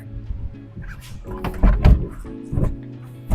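A car door is worked into place during a DIY replacement: a few dull metallic thunks and knocks of moderate loudness, with scraping handling noise between them.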